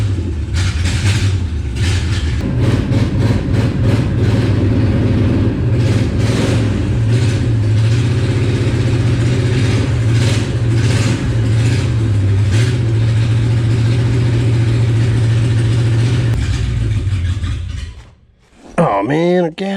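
Engine of a 1967 Rambler Rebel SST left in a farmyard for 40 years, running loud and close with a steady low drone and rhythmic pulsing that rises and falls as it is revved. It cuts out abruptly near the end, and voices are heard over it.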